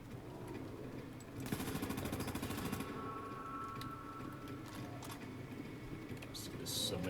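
Video game submachine gun firing a rapid sustained burst, then shorter bursts, set against a busy background of game noise, moderately loud and close.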